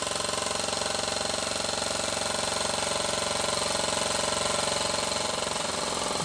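Small, sturdily built model engine powered by a meths burner, running steadily with a dense, continuous mechanical chatter and rapid regular beat, loud and close throughout with no talk.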